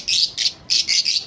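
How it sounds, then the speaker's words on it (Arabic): Pet budgerigars chirp in quick, bright bursts, five short high calls close up with brief gaps between them. "هاي الطيور قدامكم صحتهن خير من الله، 3 أزواج باربلو."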